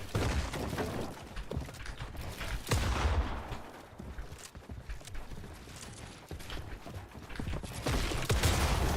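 Gunshots in Fortnite, dense overlapping fire with sharp cracks and mechanical clatter that keeps going throughout, some reports close and loud, others farther off.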